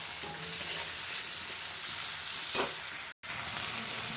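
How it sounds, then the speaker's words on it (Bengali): Tomato frying with spices for a mutton curry, a steady close sizzle with one brief stir scrape and a momentary cutout. "একটু ভেজে নেবো টমেটোটা"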